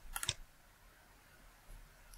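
A mouse clicks a checkbox in audio mixing software for a Behringer Firepower FCA1616 interface: a quick, close pair of sharp clicks at the start, then near silence.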